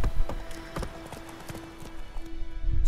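Hooves of Geralt's horse Roach clopping in a steady trot in The Witcher 3, close and rhythmic, with a faint tonal hum underneath.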